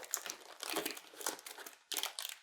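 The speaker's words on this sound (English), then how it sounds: "sorry for the rustling noises" Plastic packaging rustles and crinkles while an Aeon Trespass: Odyssey board game is unboxed, in close, repeated crumpling bursts with short pauses between them.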